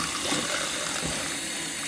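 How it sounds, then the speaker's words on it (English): Water poured into a Concord grape natural dye bath, a steady, close rushing and splashing wash of sound that fills the whole moment without pause. "So now I'm gonna just add more water, but I'm also gonna do a couple of drops of dish soap in there."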